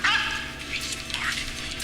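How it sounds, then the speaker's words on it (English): German Shepherd barking in a film, a few sharp barks and yips at moderate distance over a low background hum. "German Shepherd starts barking."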